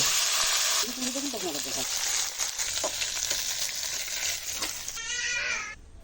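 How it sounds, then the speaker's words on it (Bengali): Small fish frying in oil in a pan, a steady near sizzle and crackle with occasional stirring taps; a brief high-pitched voice or bleat-like sound rises early and again near the end. "ছোট মাছের ঝাল করার জন্য প্রথমে আমি মাছটাকে সুন্দর করে লাল করে ভেজে নেব।"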